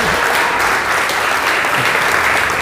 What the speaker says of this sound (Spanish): Ay, un aplauso para Fred.